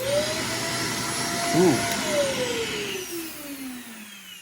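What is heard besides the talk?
Shark Navigator Swivel vacuum cleaner running in basement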